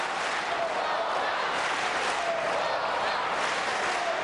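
Crowd at the 2009 Men's World Cup table tennis final between Chen Qi and Vladimir Samsonov, a broad wash of cheering and applause that continues without a break, heard from inside the arena.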